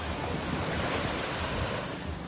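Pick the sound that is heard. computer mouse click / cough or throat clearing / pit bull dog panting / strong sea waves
strong sea waves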